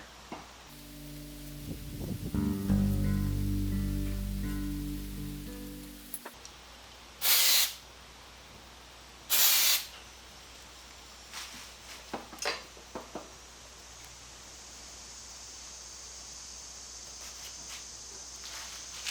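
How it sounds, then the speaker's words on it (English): Electrical contact cleaner sprayed onto the points of a Sears 1250 watt alternator, heard as two loud, separate hissing bursts after a stretch of clattering, followed by lighter metallic taps and clicks. "Electrical contact cleaner."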